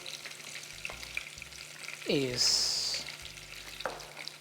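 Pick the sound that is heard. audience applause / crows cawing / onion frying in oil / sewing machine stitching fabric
onion frying in oil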